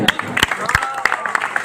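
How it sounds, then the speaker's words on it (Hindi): A crowd at a Bageshwar Dham religious gathering gives a short, brisk burst of applause, with a voice over the scattered claps. "तालियां थोड़ी बड़ी करिए।"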